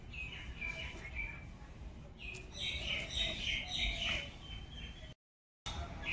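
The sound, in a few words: birds chirping nearby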